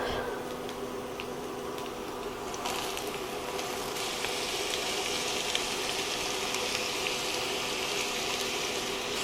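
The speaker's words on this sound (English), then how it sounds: "A little piece of pepper right there and it is sizzling." Chopped peppers and onion frying in an enameled cast iron pot for taco soup with ground beef, a faint steady sizzle and crackle that grows a little denser after a few seconds, with no talk.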